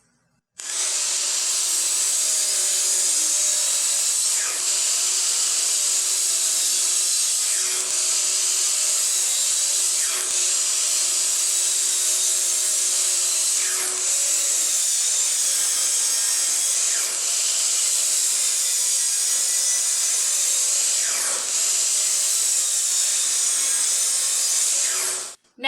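Pallet wood boards being cut for a jewelry box, a continuous high whining saw or power tool run close up for nearly the whole stretch, with a few brief dips where the cut pauses.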